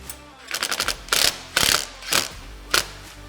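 A hand ratchet tightens M6 nylock nuts on a windshield bracket for a Can-Am Commander or Maverick Trail side-by-side, with a quick run of clicks followed by four separate loud ratcheting strokes, close and crisp.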